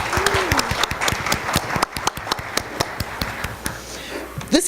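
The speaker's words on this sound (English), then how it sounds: "we'd like you all to give yourselves a round of applause." Audience applause at a college semester event, a steady crowd of many hands clapping at moderate loudness with sharp individual claps standing out, briefly under a voice near the start.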